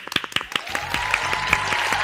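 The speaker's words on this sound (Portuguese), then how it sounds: "E palmas, Danilo!" Studio audience applause on a television program starts as a few separate, sharp claps and quickly swells into continuous clapping, with a sustained tone running underneath.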